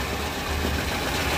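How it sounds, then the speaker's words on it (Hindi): A Royal Enfield Standard 500 cc motorcycle of the old model, engine idling in a steady, loud, close thumping rumble with no other sounds. "और बाइक की आवाज़ बहुत प्यारी है अभी भी, देख सकते हैं।"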